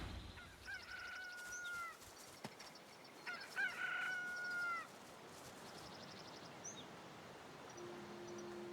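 A magic cockerel crows in Divinity Original Sin 2, two drawn-out crowing calls close together early on, clear against a quiet game background with fainter squawks afterward.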